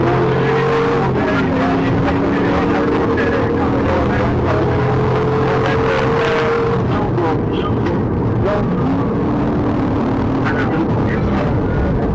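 A Dodge Hellcat floors it during a police chase, a loud, sustained engine roar with rising pitch and brief tire squeal, heard close and continuous throughout.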